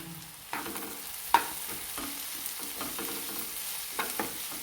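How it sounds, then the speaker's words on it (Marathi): Tomato with garlic and coconut frying in a pan for a paneer ghotalo street-food dish, a low continuous sizzle punctuated by a few sharp spoon clinks against the pan, close and fairly quiet. "आता आपलं टोमॅटो परतून झालेलं आपण लसूण खोबरं घेतलेलं आहे ते टाकून घेणार आहोत"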